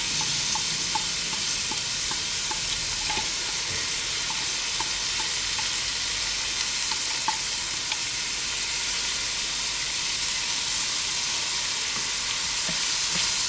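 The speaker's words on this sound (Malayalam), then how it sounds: "ഇനി ഇതിലേക്ക് നമുക്ക് സവാള ചോപ്പ് ചെയ്ത് വെച്ചത്." Chopped onions sizzle and fry steadily in a hot pan while making tomato rice, a continuous close crackle with light stirring clicks throughout and no talking.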